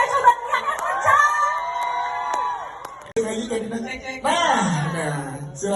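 A cinema audience at an Indonesian film promotion event shouts and cheers loudly on request, with raised voices, whoops and laughter filling the room in two swelling waves.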